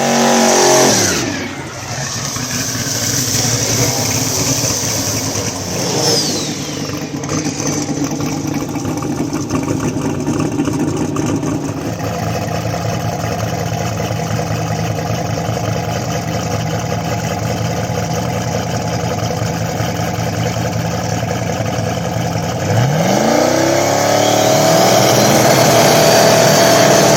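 Drag radial and street cars at a Mooresville drag strip rev and accelerate, loud engines rising and falling in sweeping pitch across nearly half a minute, with idling stretches between hard pulls.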